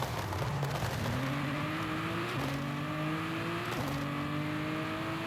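Car engine fitted with anti-lag in Forza Horizon 5, revving up through several gears with rising whine, each shift marked by a brief crackle as the pitch drops and climbs again, loud and continuous.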